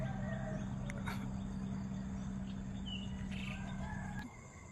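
A rooster crowing at dawn beside a mango orchard, heard faint and distant over a steady low hum, with a few short chirps and calls scattered through.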